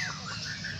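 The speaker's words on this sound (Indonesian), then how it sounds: "Biasanya para juri menilai burung ini dari volume suara yang keras dan nyaring" A white-rumped shama (murai batu) sings at a bird song contest, its loud, clear whistled phrases rising over a dense background of other competing birds, with no talk.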